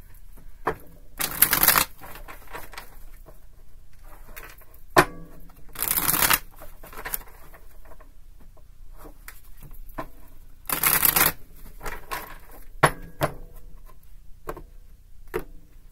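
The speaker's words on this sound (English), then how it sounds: "Three shuffles." Tarot cards being riffled and shuffled in several quick bursts, each a crisp fluttering rush, with softer taps and handling noises in between.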